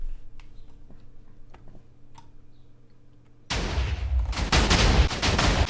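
A nuke cannon firing in a video game bursts in loud and sudden after about three and a half seconds of quiet, low hum, then roars on as a dense, sustained blast of gunfire-like noise that builds toward the end.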